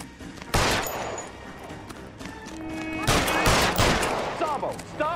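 Gunfire in L.A. Noire: a couple of loud, close, sharp shots with echoing tails, a burst of rapid firing later, and voices talking between them.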